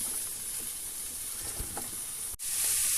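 Cauliflower (gobi) hitting a hot pan in a home kitchen, a steady bright hiss and sizzle with a few soft clatters, brief dropout near the end before the frying resumes loud and close.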